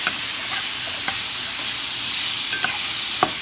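Beef stew meat browning in a pan, a loud, even, close sizzle with a few sharp crackles and pops scattered across it, no voices.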